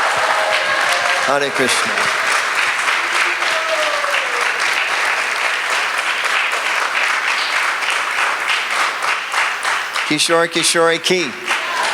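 Applause from a community appreciation gathering at a Hare Krishna temple in Chicago runs throughout, moderately loud and continuous, while someone speaks and chants briefly over it near the start and again near the end.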